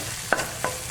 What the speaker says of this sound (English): So just keep stirring it, because the egg is really quick.